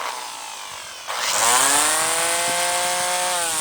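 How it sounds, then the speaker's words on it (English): An electric string trimmer starts after a second of quiet and revs up to a loud, high motor whine, its pitch sweeping slightly as it cuts into mushrooms, no talking. "we'll cut those mushrooms up with this trimmer and see how well it runs."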